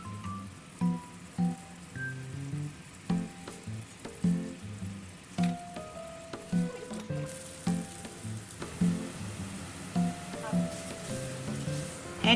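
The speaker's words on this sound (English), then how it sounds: "Here we are frying the sambal in oil." Sambal sizzles steadily as it fries in oil, with regular stirring scrapes every second or so and a few clinks, no voices.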